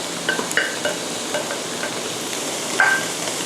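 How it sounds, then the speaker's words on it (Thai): Shrimp stir-fried in a pan for a pineapple shrimp dish, giving a continuous close sizzle with light scraping and clinks of the utensil against the pan, no voices. "แล้วก็ผัดให้กุ้งพอสุกนะคะ"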